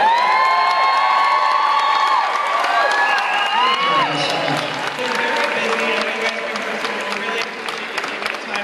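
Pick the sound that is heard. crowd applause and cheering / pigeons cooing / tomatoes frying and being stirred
crowd applause and cheering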